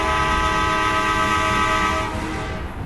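A train horn blares long and loud at the end of a tunnel, a sustained multi-toned blast over the rumble of the moving train, fading slightly in its last second.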